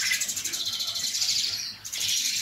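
Bright, rapid chirping calls from a Bali starling, repeated in a quick pulsing rhythm, close and fairly loud, with a brief dip before resuming.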